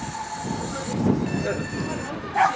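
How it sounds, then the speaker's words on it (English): A steam train rumbles in the distance with low, steady mechanical noise and faint squealing, people murmuring nearby at a winter steam gala on the Great Central Railway. "There's another train coming."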